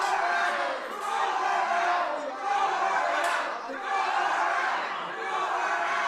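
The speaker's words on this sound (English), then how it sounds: "Crowd chanting, throw her out" A wrestling crowd at an independent show chants rhythmically in unison, a loud repeating wave of many voices rising and falling in regular phrases that carries on throughout.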